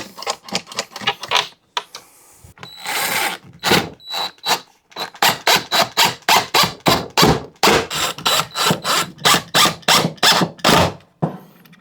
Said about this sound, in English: Now we'll just secure this to the wall with a few screws.